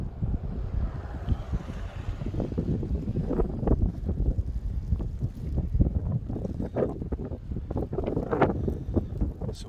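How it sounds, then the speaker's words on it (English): Strong wind during a December snow storm in Calgary, a continuous gusting roar buffeting close to the microphone with rumbling low-end noise, steady and alone. "The wind is picking up."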